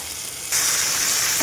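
Chopped brinjal drops into a pan of sautéing onion and tomato for a Tamil-style sambar kara kuzhambu. A mild sizzle jumps abruptly to a loud, hissing fry at the moment of adding and holds steady until the end.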